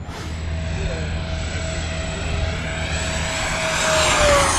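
An SU-30 plane flies past with a continuous droning engine and a high whine, holding steady and then swelling louder toward the end as it nears, with no talk over it.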